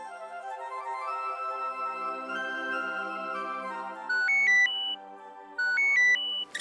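An electronic phone ringtone plays a repeating melodic tune, loud and close, with bright beeping notes near the end.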